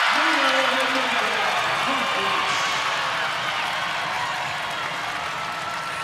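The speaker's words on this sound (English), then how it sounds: "Big roar from that" A volleyball crowd at the Walter Pyramid roars after a long rally in an NCAA men's match between Long Beach and Princeton, loud cheering that slowly fades while a commentator talks over it.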